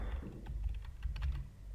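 A few quick keystrokes tap on a computer keyboard, soft and close over a low background hum, a short burst of clicks while entering a number in Tekla Structures.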